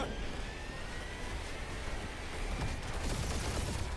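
Spaceship dogfight gunfire in the Guardians of the Galaxy video game: dense, continuous rapid bursts of blaster fire and roaring engine noise, loud and steady throughout with no talk.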